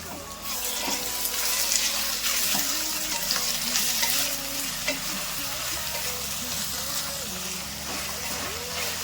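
Chopped capsicum frying in oil with onion and mint makes a dense, steady sizzle with stirring, while a voice talks quietly underneath throughout.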